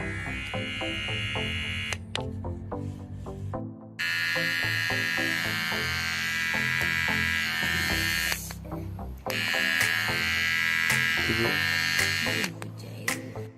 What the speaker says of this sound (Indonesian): Hongjuo alat pemangkas rambut, pemangkas jenggot, alat cukur tanpa kabel